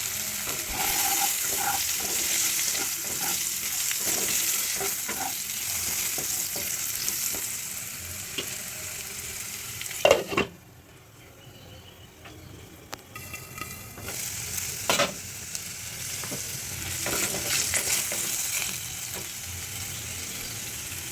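Potato pieces stir-frying in hot oil with salt and turmeric give a continuous loud sizzle broken by utensil scrapes, a brief clatter midway, then a quieter stretch before the frying swells again.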